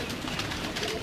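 A Naag pigeon, the black-marked breed, gives a brief low coo up close, soft and throaty against light background noise.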